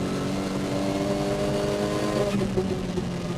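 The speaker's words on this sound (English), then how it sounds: "All cars thundering down towards turn number 1" Race cars in a VLN endurance championship round at the Nürburgring pack charging down toward turn one, a loud sustained multi-engine roar with layered engine tones rising and shifting throughout.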